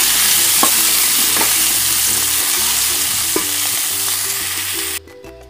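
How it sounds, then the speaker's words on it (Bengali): Ground spice paste, blended in a mixer, sizzles loudly in a pan after vegetables were fried for a thin katla fish curry, with a constant hiss and occasional scrapes of stirring before the sound cuts off abruptly near the end. "তারপর মশলাটা কষিয়ে নিই"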